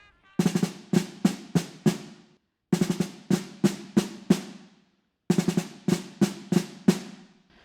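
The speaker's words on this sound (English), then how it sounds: "This early call to forward march" Crisp snare drum strokes tap out a short New Orleans brass band forward march cadence, played three times in a row with brief pauses between.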